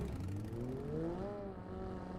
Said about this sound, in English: car in front of me